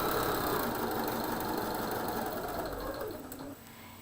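A sewing machine stitches through quilt fabric for star and tulip blocks with a loud, fast, steady mechanical whir close by, easing off just before the end.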